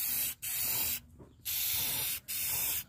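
Clear coat sprayed from an aerosol can onto a microwave: three close hissing bursts, each lasting under a second, separated by short gaps.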